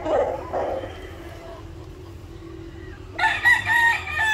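A gamefowl brood stag rooster crows loud and close near the end, after earlier clucking calls, over a low steady background hum.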